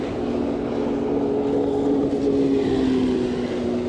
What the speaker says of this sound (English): Here comes the jet skis again.